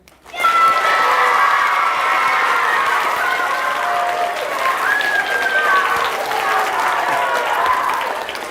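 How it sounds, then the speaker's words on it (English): A school audience in Axminster cheers and claps together on cue, a loud, sustained wash of clapping with high children's shouts and whoops running across it for several seconds. "can you see if you can cheer and clap for a few seconds?"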